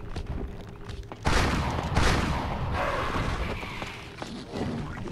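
Heavy shotgun blasts from the video game Silent Hill: Origins burst out loudly and close, each followed by a rumbling, noisy decay that fills the space before settling.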